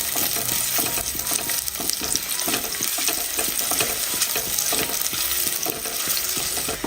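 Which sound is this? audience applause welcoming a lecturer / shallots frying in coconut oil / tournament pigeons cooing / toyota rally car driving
shallots frying in coconut oil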